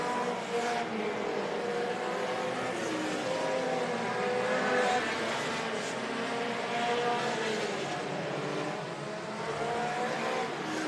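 Sport compact race cars roar around the oval track at Davenport, Iowa, their engines blending into a continuous, dense drone of racing noise that holds steady throughout with no clear individual pass-bys.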